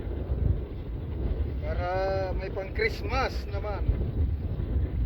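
Strong wind roars over the microphone aboard a small fishing boat at sea among big waves, a steady buffeting rumble running the whole time beneath someone speaking.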